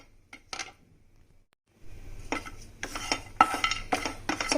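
Nuts roasting over a low flame, stirred in a pan: scraping and clinking of a spoon against the metal with soft sizzling, starting sparse and becoming steady, no talking.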